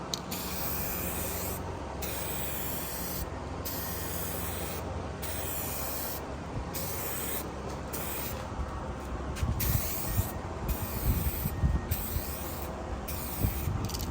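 Spray gun laying a clear coat tack coat onto a canopy, giving a steady continuous hiss of atomised spray with short pauses between passes, close and alone without talk.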